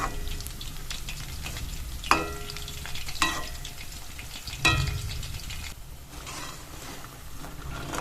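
Vegetarian pakoras deep-frying in oil over a low flame, with a dense, continuous bubbling sizzle and a few sharp clinks of a utensil against the pan, close by.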